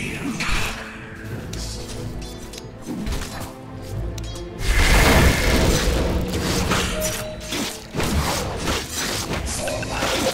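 Combat at a bottom tower under attack in the video game Dota 2: dense, continuous booms, crashes, thuds and whooshes that swell louder midway and stay busy to the end.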